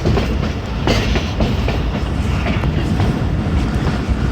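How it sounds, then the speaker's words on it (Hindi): Jaffar Express passenger train rolling slowly through Fakirabad railway station on a loop line in foggy winter weather, a steady loud rumble with faint clickety-clack of wheels over rail joints, heard up close from aboard. "फ़कीराबाद रेलवे स्टेशन पे हमारी ट्रेन पहुंच गई है और स्लो पास करेगी लूप लाइन से"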